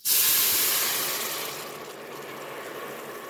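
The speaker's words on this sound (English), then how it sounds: "we're just now going to deglaze the inside of the Instapot insert" A sharp burst of steam hiss as broth hits the hot Instant Pot insert during deglazing, loud at onset and slowly fading into a softer sizzle, with no talk.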